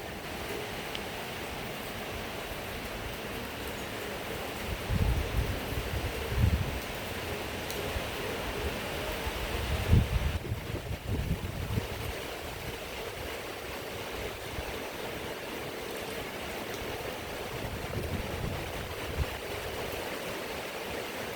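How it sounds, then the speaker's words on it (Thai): Steady rain hissing continuously with gusts of wind swelling now and then during an evening storm, a dense wash of noise without speech. "ฟังเสียงฝนไปด้วยกันค่ะทุกคน"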